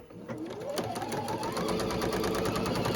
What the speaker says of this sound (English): go to our machine and stitch our 1/4 inch seam